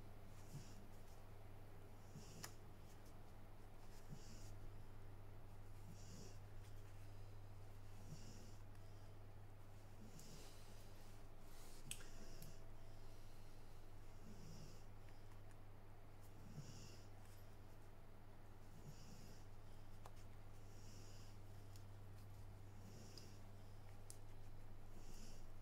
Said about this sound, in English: That's Boo, you can hear snoring.